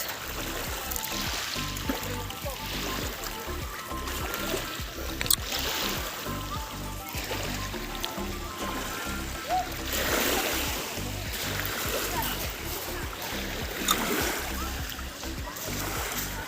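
Sea water splashes and sloshes steadily around a boat, with a continuous wash of movement and faint voices in the background.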